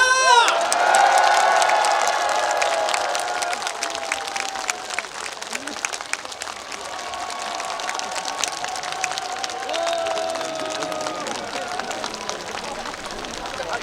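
A large outdoor audience at a bamboo festival concert applauds and cheers, with whoops and shouts over sustained clapping. The sound fades slightly, then keeps going steadily throughout.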